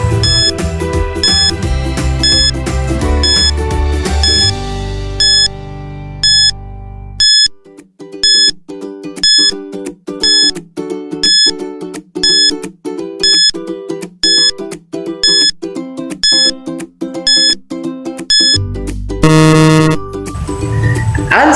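A quiz countdown timer beeps in a steady, regular rhythm for about twenty seconds, loud and electronic, over a brief opening musical chord, ending in a louder burst.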